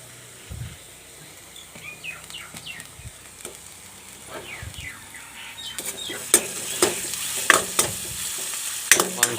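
Meat frying with ginger in a pot as it is stirred, a steady sizzle broken by scraping, clattering stirs that grow sharper and more frequent, with faint birds chirping in the background.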